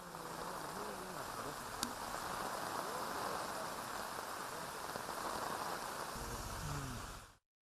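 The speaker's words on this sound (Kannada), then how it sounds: "ಚಿಕ್ಕಮಗಳೂರು ಜಿಲ್ಲೆಯ ಮಲೆನಾಡಿನ ಭಾಗದಲ್ಲಿ ಕಳೆದ 24 ಗಂಟೆಗಳಿಂದ ನಿರಂತರವಾಗಿ ಮಳೆ ಸುರಿತಾ ಇದೆ." Heavy monsoon rain pours steadily over the Malnad hills of Chikkamagaluru district, a dense, even hiss that holds unbroken at moderate loudness for the whole stretch.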